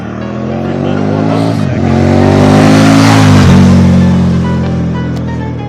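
A dual-sport motorcycle engine runs rough in sub-freezing cold, thick with 50-weight oil, holding a loud, uneven drone that dips and recovers twice before swelling again, with a voice faintly present.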